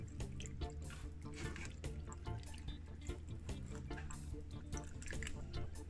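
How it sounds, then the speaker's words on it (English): About two cups of water pour into a blender jar in a home kitchen, giving a continuous splashing, gurgling stream at close range with no talk. "I'm gonna pour some water, about 2 cups of water."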